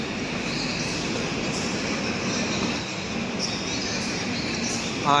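A passenger train at a railway station platform produces a steady, loud rumble and hiss for several seconds, with faint squeals near the end.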